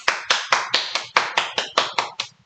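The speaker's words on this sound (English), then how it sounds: "Please help me give a warm welcome of applause to our Vice President" Roughly ten sharp, evenly spaced claps ring out close and loud, sounding like a single pair of hands rather than a full room, welcoming a vice president to the stage at a speech introduction, with no talking.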